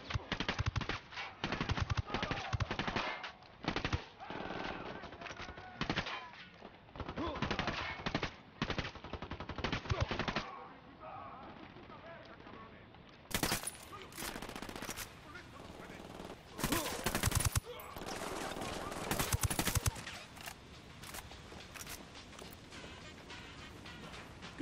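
Sustained machine-gun fire and rapid shots in the tactical shooter Ghost Recon Wildlands, dense bursts through most of the stretch, with sharper, louder volleys in the later part and occasional voices mixed in.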